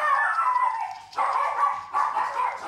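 A dog barks and howls in three drawn-out, whining calls, close and fairly loud, with short breaks between them.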